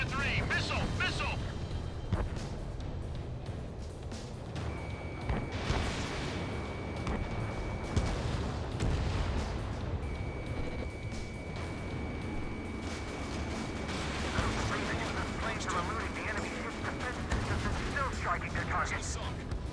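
Missile launches and rapid cannon fire boom and rattle steadily in the Ace Combat 7 aerial combat video game, a dense continuous din with a warning tone beeping, while someone talks over it.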